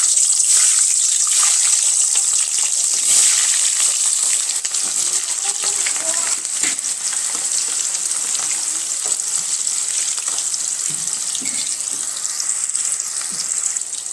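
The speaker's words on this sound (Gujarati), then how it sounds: "તો તેમાં આપણે આ ડુંગળી તળી લેવાની છે." Chopped onions frying in hot oil for a Gujarati vegetable dish, giving a steady, loud sizzle that stays fairly constant throughout with faint stirring scrapes.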